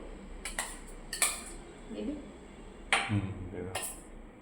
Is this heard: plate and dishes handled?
yes